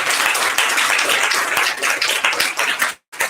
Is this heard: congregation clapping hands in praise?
yes